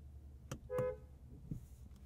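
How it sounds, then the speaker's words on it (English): A 2023 Rolls-Royce Phantom gives one short, soft toot of its horn, then a single brief clear tone, heard quietly from inside the car amid light clicks. "Let's begin with the world famous horn test."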